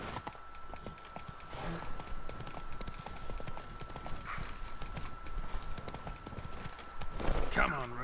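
Roach, a horse in The Witcher 3: Blood and Wine, trots with steady clip-clopping hooves throughout, loud and close over ambient game sound, with a voice speaking briefly near the end.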